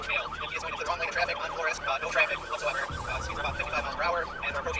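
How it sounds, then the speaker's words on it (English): Police car siren during a high-speed chase after a carjacked vehicle, heard from the pursuing cruiser: a rapid, continuous warbling wail over a low engine rumble. "activated the siren"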